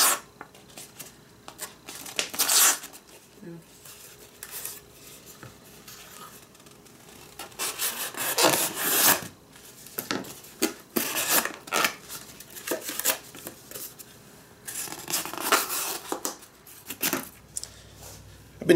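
A Milwaukee Hardline 5-inch fixed blade knife slices through paper in repeated rasping strokes, short bursts of crisp tearing separated by quiet pauses.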